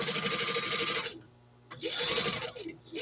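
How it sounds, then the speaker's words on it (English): A sewing machine stitching pencil cases runs in close, rapid bursts, pausing briefly after about a second and then whirring again in short runs. "I hope you guys can hear me over this sewing machine."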